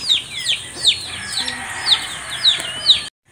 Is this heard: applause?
no